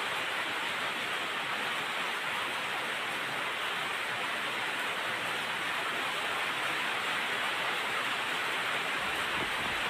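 Heavy rain pouring down in a constant, dense hiss, loud and unbroken from start to finish.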